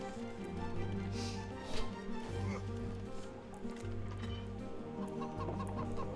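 Chickens clucking in an Age of Empires-style strategy game match, small flock sounds over a steady game soundscape with low music and ambient hum throughout.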